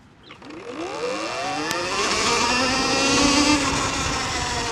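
A 2020 Electric Motion Escape electric motorcycle accelerates hard, its motor whine rising steadily in pitch and growing louder over several seconds, close and without talk.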